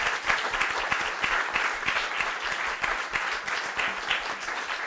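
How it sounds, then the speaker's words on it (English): A live audience applauds the guests at a Schrödinger Session show in Florence, a dense, steady burst of clapping from many hands that holds at full strength throughout, with no talking. "let's give a big round of applause for our guests"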